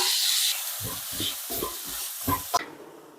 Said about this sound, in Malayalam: പിന്നെ നമുക്ക് ഇനി ഒന്ന് മൂപ്പിച്ചെടുക്കാവേ അതിലോട്ട് ഇതുണ്ടോ ഒരു തക്കാളിയും കൂടി അരിഞ്ഞത് ഇട്ട് കൊടുക്കാം